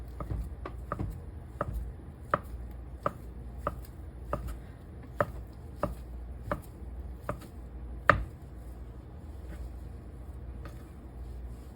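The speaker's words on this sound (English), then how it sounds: "So let's chop this up, and we're going to mix up our crab ragoon filling." Knife chops steadily on a cutting board while ingredients for a crab rangoon filling are prepared, about fifteen sharp, evenly spaced taps with one louder strike near the end, close and alone.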